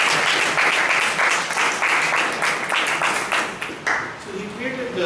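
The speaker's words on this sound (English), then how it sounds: "Let's give him a round of applause." Round of applause from a seated audience at a speech evaluation session, dense continuous clapping that stays loud for several seconds before thinning out, with voices starting to speak near the end.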